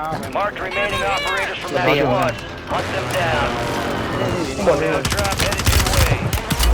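Gunfire rattles through a Call of Duty: Warzone match, repeated shots and bursts crackling close by while someone talks excitedly over them, with the firing growing denser toward the end.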